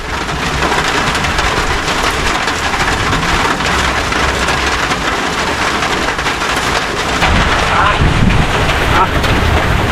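Rain falls outdoors with gusting wind, a dense, continuous hiss and rumble that stays loud for the whole stretch.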